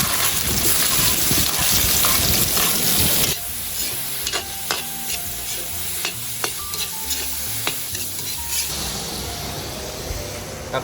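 Tomatoes go into a hot pot for Filipino sinigang fish soup with tamarind: a loud steady sizzle that drops sharply, followed by softer bubbling with scattered clinks and stirring, no talk.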